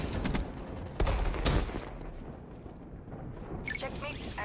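The Mothership weapons platform in Call of Duty Black Ops 3 fires in sustained bursts of heavy gunfire with booming impacts. The sound is loud, layered and continuous, mixed with game effects.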